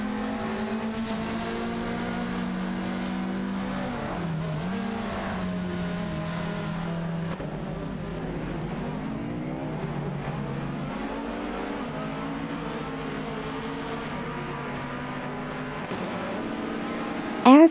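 Race cars in a racing video game, including an Osella PA 21 Honda, roar continuously with engine notes rising and falling through gear shifts, loud and close throughout.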